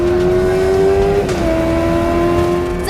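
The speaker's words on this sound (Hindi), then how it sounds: "कुछ लड़कों ने तो अपनी बाइक एक बड़े से ट्रक के पीछे ऐसे दौड़ाई" Motorbike racing close behind a large truck on a road, a steady loud engine drone with a rising tone that drops abruptly midway, continuous traffic roar throughout, no talking.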